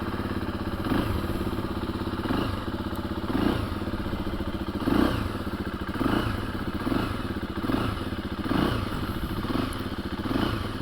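A 2024 KTM 350 EXC-F dirt bike rides along the road with a steady, loud engine drone, periodic bumps and clattering thumps recurring roughly every second or so, no voices.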